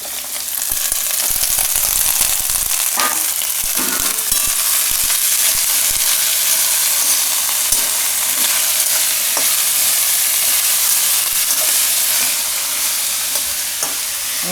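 Pumpkin pieces frying in a pan with whole garlic and green chillies, a loud, continuous crackling sizzle with occasional stirring clicks, close and unbroken.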